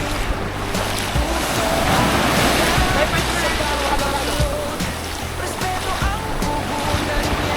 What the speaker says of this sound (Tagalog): Kaya lang malakas yung agos